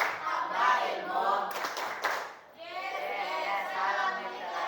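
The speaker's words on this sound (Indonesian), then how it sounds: "tepuk tangan untuk kita semua" A classroom group claps along to a rhythmic clap chant during an Indonesian open-class lesson: a brief burst of hand claps mixed with children's and adults' chanting voices.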